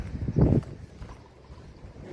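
Wind buffets the microphone in a low rumbling gust early on, then settles into a softer, fluttering outdoor rush.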